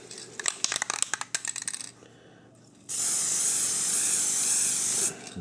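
Rust-Oleum NeverWet coating hisses from a spray can in one steady burst of about two seconds, loud and close, after some light handling clatter.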